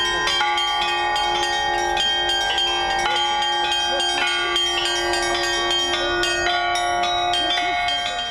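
Church bells peal continuously during a street procession with an icon, a rich, layered ringing that fills the whole stretch, with bright overlapping tones sustained throughout.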